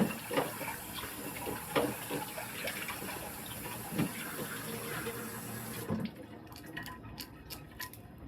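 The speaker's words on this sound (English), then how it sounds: "I'm going to wash my pot so I can make sure all that stuff that's stuck on there" A pot being washed under a running kitchen tap, with steady water flow and clinks and scrapes of the pot against the sink, then the tap quieting to a softer trickle near the end.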